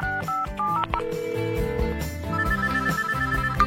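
A telephone rings in a busy electronic pattern of short tonal beeps and chimes, loud and close, with no talking.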